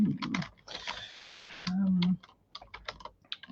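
Computer keyboard keys clack in quick irregular bursts close by, with a short stretch of talking mixed in between the typing.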